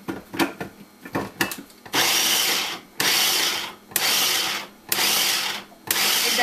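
An electric grinder blends garlic, ginger and cilantro, first a series of short rattling pulses, then four loud whirring bursts about a second each with brief gaps between them.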